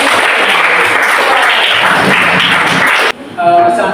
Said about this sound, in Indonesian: Sekali lagi mari kita beri aplaus.